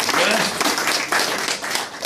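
Audience applause at a lecture, a short burst of clapping with voices and laughter mixed in, steady and fairly loud throughout.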